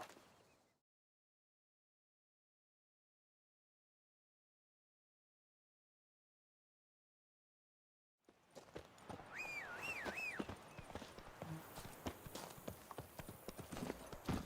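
Roach, the horse in a Witcher video game, trots with steady clip-clopping hooves that start abruptly after a long stretch of silence, joined briefly by a higher squealing tone.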